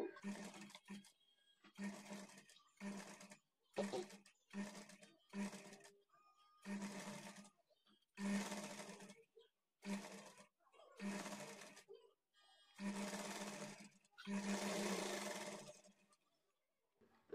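Sewing machine stitching the side joint of a blouse, running in short bursts of steady whirring separated by brief pauses, close and clear.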